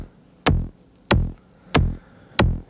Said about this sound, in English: And we have the start of our kick drum.